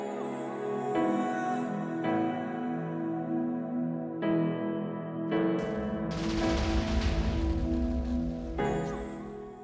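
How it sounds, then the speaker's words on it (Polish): A block of TNT explodes in Minecraft: a broad rumbling blast with crackling debris breaks out partway through over steady background music, then fades. "dla zademonstrowania przygotowałem mniejszy klocek zbudowany z TNT"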